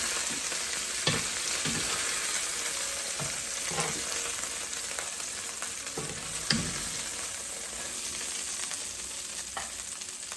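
Teriyaki chicken, Jamaican style, browns in a hot pan with a steady, close crackling sizzle throughout, broken by a few soft scrapes and knocks of stirring; no one speaks.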